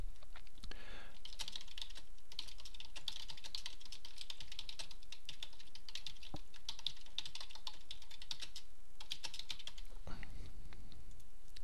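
Steady key clicks from someone typing notes on a computer keyboard, a continuous close rattle of keystrokes lasting several seconds with a brief pause near the end.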